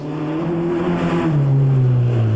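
A Hyundai Excel race car with a roughly 150-horsepower four-cylinder engine, close-ratio gearbox and limited-slip diff, droning loud and steady as its pitch climbs and shifts up under load, heard alone and close.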